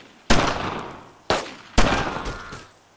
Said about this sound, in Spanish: ¡Seguid disparando!